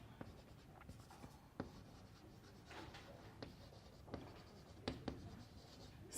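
During a math lecture, chalk or a marker scrapes and taps across a board in irregular strokes and short bursts. The strokes are quiet and close, with no talking.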